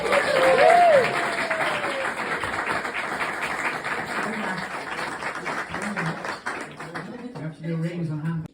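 Wedding guests at a ceremony break into loud, dense applause that slowly thins out, with a brief vocal note at the start and people beginning to talk as the clapping fades.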